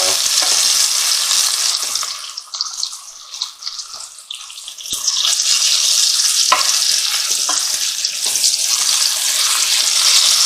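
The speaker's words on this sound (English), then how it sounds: "Give it a stir, just fry that off in the oil." Beef pieces sizzle loudly in hot oil for a stew, a bright, close, continuous frying hiss that dips briefly as the meat is stirred and then surges back to full strength.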